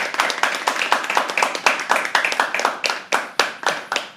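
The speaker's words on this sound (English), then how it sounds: "Can we please have a round of applause for him?" A small audience claps for a performer at a live poetry open mic, a quick scattered run of distinct close hand claps that stays steady for the whole stretch.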